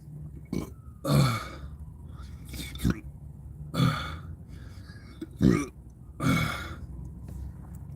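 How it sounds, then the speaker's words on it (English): Repeated burps from a person drinking from a copper cup, five or six short guttural bursts spaced a second or so apart, close and fairly loud against a quiet room. "And now that I've consumed this, I'm starting to burp again."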